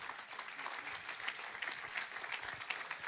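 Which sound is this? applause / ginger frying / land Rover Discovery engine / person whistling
applause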